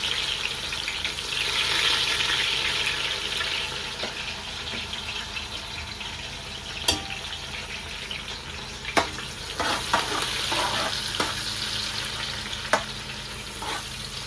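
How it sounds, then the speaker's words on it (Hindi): Onions frying with cumin in a pan, a faint, steady sizzle with occasional sharp clicks and scrapes of stirring, recorded at a distance with no talking. "तो जी प्याज की हो रही है भुनाई"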